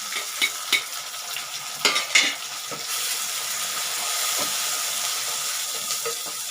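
Chopped onion and tomato sautéing in a pan, a steady broad sizzle with a few sharp stirring scrapes and clinks early on, then continuous frying hiss throughout.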